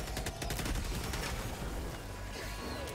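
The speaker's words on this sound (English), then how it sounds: "I'll go for my LMG here." Sustained light machine gun fire in the Helldivers 2 video game, a dense rapid burst of shots running steadily through the whole stretch, loud and close with no talking.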